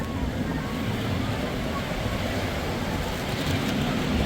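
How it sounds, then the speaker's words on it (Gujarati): Sea waves rushing onto Dabhari beach near Surat, a constant broadband roar of surf mixed with wind buffeting the microphone, loud and unbroken throughout. "સડાટ કરતું પાણી આવે છે ભાઈ અહીંયા તો."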